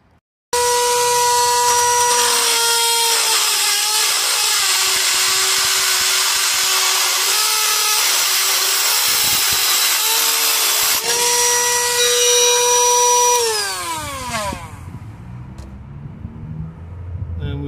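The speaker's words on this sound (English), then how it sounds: "use a rotary tool for that with a carbide bit" A rotary tool fitted with a carbide bit grinds off a bolt section on a Peugeot Boxer / Citroen Relay 2.2 HDi van, making a loud, steady, high-pitched whine that runs alone for many seconds before winding down in pitch near the end.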